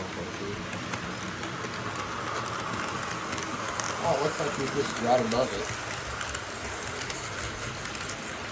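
A model train rumbles and clicks along steadily on its track while a person talks over it.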